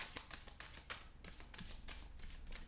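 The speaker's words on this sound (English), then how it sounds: "This is the third shuffle." A deck of tarot cards being shuffled by hand, a quiet and close run of rapid riffling bursts and soft slaps repeating in an uneven rhythm.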